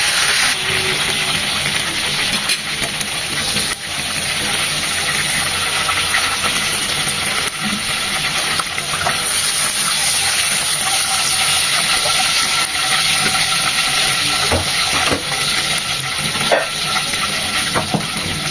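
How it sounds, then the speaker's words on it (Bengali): Chicken pieces frying in a pan for an Eid roast, a loud, broad, hissing sizzle that runs steadily throughout with a few faint clicks, close up and without voices. "দেখতেই পাচ্ছেন আমি কতটা ভেজে নিচ্ছি চিকেনটা"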